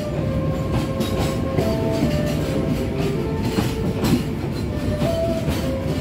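A passenger train, the Sembrani express between Semarang and Jakarta, rumbles steadily with rhythmic wheel clatter and occasional faint squeals, loud and close, with no voices.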